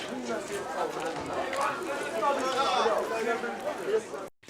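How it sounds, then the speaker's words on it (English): Busy Moroccan market ambience: a dense bustle of many overlapping voices chattering at moderate distance, with scattered footsteps and movement, steady throughout. "This is the sound from a Moroccan market."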